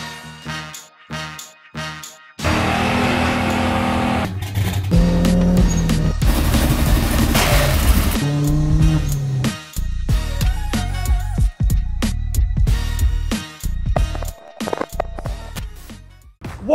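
A car fitted with an N2MB Wotbox two-step launch control revs and launches, a loud sustained engine roar with sharp popping bursts between pauses, broken up by music beats.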